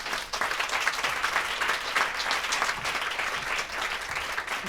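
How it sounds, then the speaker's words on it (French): A studio audience gives a thunderous round of applause for guest Pauline Déroulède, a future Los Angeles 2028 Games competitor. The dense, even clapping carries steadily for several seconds with no talk over it. "Merci de faire un tonnerre d'applaudissements à Pauline Desroulèdes"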